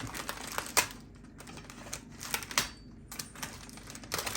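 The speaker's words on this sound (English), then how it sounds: "My idea is to cut around the bag." Scissors snip around a plastic roasting bag holding a cooked Christmas turkey, giving sharp close clicks and light crinkling spaced irregularly, with quiet gaps between cuts.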